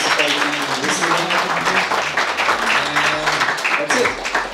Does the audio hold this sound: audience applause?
yes